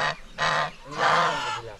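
Farm ducks in a rural yard give three loud, nasal honking calls in quick succession, close by.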